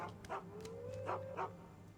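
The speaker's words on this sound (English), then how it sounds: "Oh, I thought I heard a dog barking." A dog barks in the video game Skyrim: a handful of short yips and barks spaced through a quiet stretch, with a faint tonal hum behind them.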